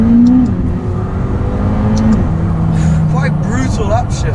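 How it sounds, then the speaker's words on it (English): A McLaren engine revs hard, its pitch climbing and dropping through abrupt upshifts, loud and continuous beneath people talking inside the car. "Brutal upshifts from time to time."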